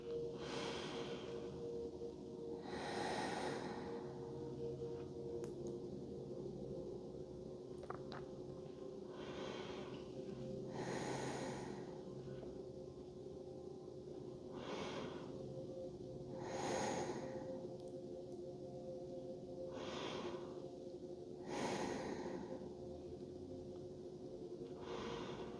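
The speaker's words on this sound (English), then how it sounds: "Breathing in and breathing out." Slow, deep breaths during a gentle evening yoga flow come in a steady cycle, about eight soft airy inhales and exhales several seconds apart, close and quiet over a faint room hum.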